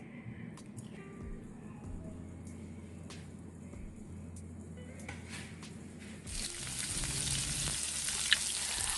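A soy and brown sugar sauce simmers in a pan with a soft, steady bubbling sizzle and a few light clicks, swelling into a louder, brighter hiss near the end.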